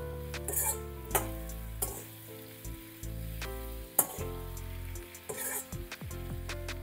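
Sliced potatoes for a Marathi-style stir fry, seasoned with jaggery and salt, sizzle in a pan, with intermittent clanks and scrapes of the stirring spoon against the metal.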